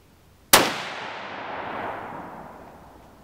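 A single loud Savage Axis .308 rifle shot fired while sighting in a scope at a range, a sharp crack followed by a long rolling echo that fades over several seconds.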